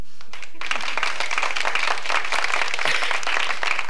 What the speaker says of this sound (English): The reason you hear the applause is because a bunch of the thespians are here.